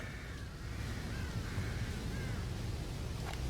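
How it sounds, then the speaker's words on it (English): Crows cawing in The Evil Within, a few harsh calls at mid distance over a steady, low ambient rumble. "You can shoot these birds and they drop goo"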